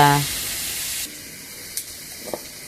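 Beetroot fry ingredients sizzling in a pan: a bright hiss that is loud for about a second, then drops to a faint, steady sizzle with a couple of small pops.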